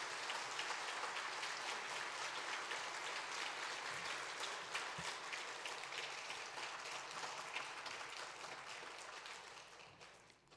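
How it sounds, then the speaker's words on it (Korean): A church congregation gives warm welcoming applause, a dense, even patter of many hands clapping together that fades out toward the end. "목사님 오실 때 우리 양해문교회 환영의 박수, 열렬한 따뜻한 박수로 환영하도록 하겠습니다"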